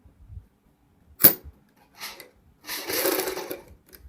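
A sewing machine stitches a band strip on a kurti along a marked line: a sharp click, a couple of faint taps, then a short, fairly loud run of stitching under a second, with no talking.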